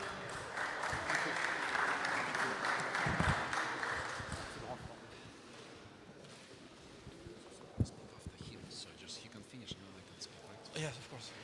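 Conference audience at a chess and business event gives applause that swells for a few seconds and then fades, with people talking over the tail end and some scattered clatter.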